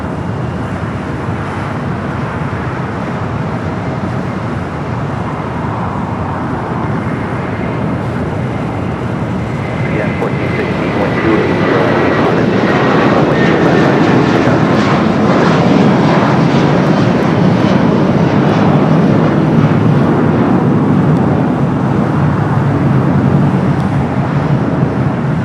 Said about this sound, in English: Next takeoff, United flight 2268 heading to Dallas. It's a 757 at 300.